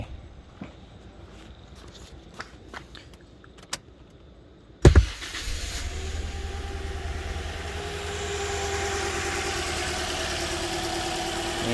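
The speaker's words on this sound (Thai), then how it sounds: "เครื่องยังสะดุดอยู่ ตึกตึกตึกตึก" A Toyota Altis with a fuel stumble is cranked and catches after a few quiet clicks and rustles, then settles into a close, steady idle with an uneven, stumbling note.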